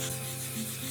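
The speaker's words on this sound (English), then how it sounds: "I'm just going carefully with 1200 grit sandpaper" Continuous close-up wet sanding of lacquer on a Precision Bass guitar body with 1200-grit sandpaper, a steady soft swishing with no pauses.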